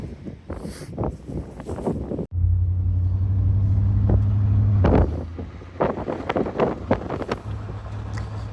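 A 1987 Ford F-150 farm truck's engine runs with a low, steady rumble that swells for a few seconds and then settles, heard up close along with wind buffeting the microphone.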